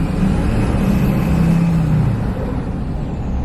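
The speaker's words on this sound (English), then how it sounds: "So the exhaust is still very loud." A loud, deep Duramax diesel truck with a 5-inch straight-pipe exhaust roaring steadily up close, a constant heavy rumble with a slight rise in pitch as the engine works.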